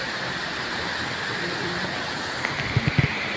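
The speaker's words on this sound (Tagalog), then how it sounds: "Ang lakas-lakas ng ulan." Heavy rain pours steadily at an outdoor working place, a dense, constant hiss with a few dull thumps near the end.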